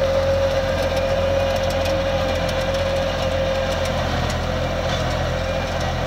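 A 50 HP tractor runs steadily while pulling a super seeder through a field, a constant close engine drone with a sustained tonal whine and no speech.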